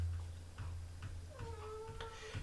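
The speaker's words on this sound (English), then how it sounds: "You hear my cat meowing." A house cat gives one drawn-out meow mid-clip, quiet and slightly distant, over a low hum and soft ticking.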